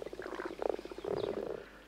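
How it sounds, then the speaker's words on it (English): Frogs croak in a garden pond in spring, a dense chorus of rapid, pulsing croaks overlapping close by, fairly quiet and with no voices. "the frogs are in full chorus"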